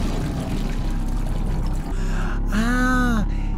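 Hot water pours and trickles steadily in The Happyhills Homicide, a continuous liquid rush over a low background hum, ending with a brief rising whistle-like tone.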